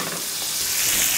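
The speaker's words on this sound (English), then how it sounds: "We're just gonna throw our onions in," Onions hit hot bacon grease in a skillet for a rabbit pot pie, giving a loud, dense, continuous sizzle that swells slightly toward the end, heard alone.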